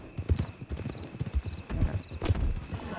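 Horse hooves clip-clop steadily while riding through a ranch in a Western video game, close and fairly loud, with uneven thudding beats and a faint background hum.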